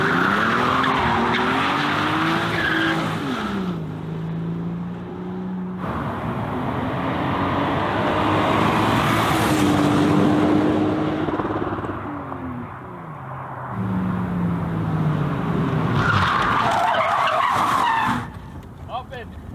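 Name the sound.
car accelerating away with tire squeal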